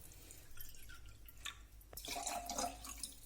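Water is poured into oil and salt in a blender jar to make dough for spicy besan sev, a steady splash-and-trickle starting partway through and running for about a second and a half with no voices.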